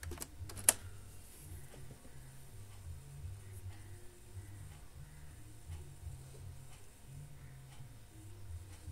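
Keys clatter on a computer keyboard as a short reboot command is entered on an Arch Linux system, a quiet, steady run of close taps over a low hum, with no voices.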